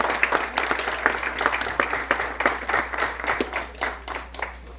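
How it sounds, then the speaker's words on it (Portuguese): A church congregation at a worship service claps together in a brisk, fairly even rhythm, the applause moderately near and sustained for several seconds with little talk over it. "Dá aplaudir ao Senhor, irmãos?"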